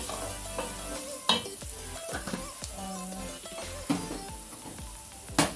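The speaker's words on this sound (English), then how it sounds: "I use half a teaspoon of it. Then I stir." Fenugreek spice is stirred in a hot frying pan, with a soft sizzle under irregular scrapes and clinks of a utensil against the pan, fairly quiet and close.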